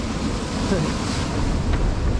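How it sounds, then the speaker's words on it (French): Mediterranean waves wash continuously on the shore at Nice, mixed with steady wind buffeting the microphone, a dense, even roar with no clear breaks. "Je pense que vous entendez que les vagues"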